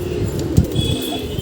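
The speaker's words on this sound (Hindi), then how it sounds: "कबूतर उड़ने की फिराक में लग रहा मुझे।" A pigeon gives a few low, soft coos close by over a steady background hum, with a brief rustling thump that may be a wing flutter.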